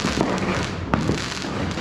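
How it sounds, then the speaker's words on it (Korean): Fireworks going off close by on an evening in Angeles, Philippines, a dense crackling roar with a few sharper bangs standing out over about two seconds, with no voices. "초저녁부터 계속 폭죽을 쏘아 올리고 있습니다"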